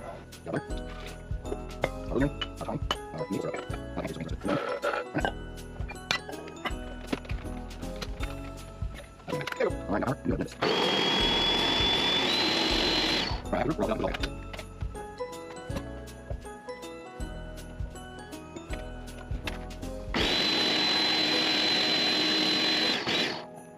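A Ninja blender whirs through butter, maple syrup, rosemary and thyme in two loud, steady bursts of about three seconds each, with quieter kitchen clatter and movement in the gaps between them.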